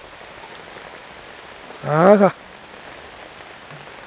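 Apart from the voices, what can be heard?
rain falling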